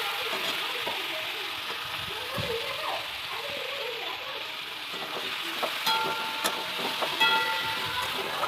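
Chicken pieces marinated in lemon juice and raw mustard oil fry in hot oil for a masala chicken, giving a steady close sizzle with occasional crackles and stirring scrapes, without talk.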